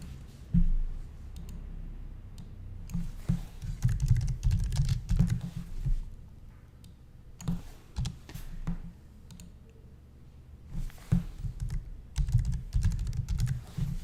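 Computer keyboard typing while naming buttons in Microsoft Access, bursts of quick close key clicks broken by short pauses, with no talking over them.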